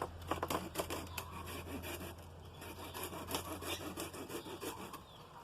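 Pruning shears or a knife cutting through a plant stem to take propagation material, heard as close, rapid rasping and snipping scrapes with a steady low hum behind.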